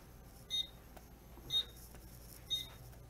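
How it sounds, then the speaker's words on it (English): Three short, evenly spaced electronic chirps about a second apart come from an SK-5208 fire alarm control panel going into alarm, faint and high-pitched over a quiet room hum. "We will now pull a pull station, sending the panel into alarm."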